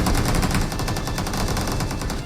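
Rapid automatic gunfire in a video game battle, dense bursts of shots firing continuously and loudly throughout with no pauses.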